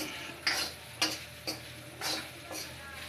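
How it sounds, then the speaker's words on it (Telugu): Chopped okra fries in a kadai while a spatula stirs it, giving quiet sizzling broken by rhythmic scraping strokes about every half second. "కడాయిలో వేసిన తర్వాత వేయించాల గడ్డి తీసుకొని బాగా వేయించాల"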